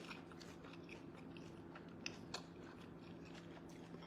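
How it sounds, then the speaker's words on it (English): Quiet, close crunching and chewing of spinach, soft irregular bites over a steady low background hum with a couple of sharper crisp snaps. "And then I'm taking a bite of the spinach."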